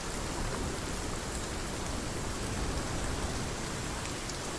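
Rain falls as a weather effect in the survival game Sons of the Forest: an even, unbroken hiss of dense rainfall, fairly soft and steady, with no talking over it.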